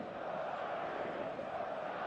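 A stadium crowd of football fans in eFootball 2026 keeps up a steady, distant roar, a broad wash of cheering with no single voice standing out.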